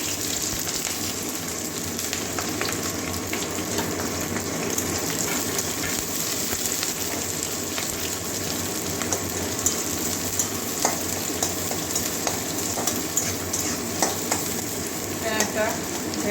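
Chopped onion and green chilli frying in a pan, a loud continuous sizzle with frequent stirring scrapes and clatters throughout, no talk.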